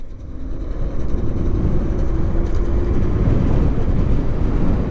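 A Roadrunner Pro electric bike accelerates hard at full throttle, heard as a dense, rushing roar of wind and road noise with a faint rising motor whine running through it.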